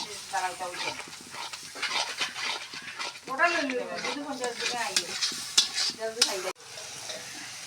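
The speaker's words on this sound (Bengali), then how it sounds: "এখন মশলাগুলি ভালোভাবে ভাজা হচ্ছে" Spices sizzle and crackle in a hot pan while a utensil stirs and scrapes, with a brief quieter moment near the end.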